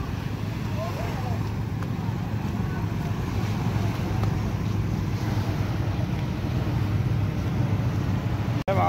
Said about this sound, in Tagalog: pinakita ko lang yung kalagayan ng panahon dito sa tabing dagat